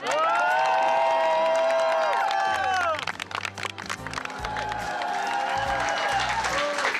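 Fellow students applaud and cheer for a schoolgirl at a Trevianum school charity run event, a loud dense burst of clapping and crowd noise that eases midway then swells again, with talk and shouts mixed in.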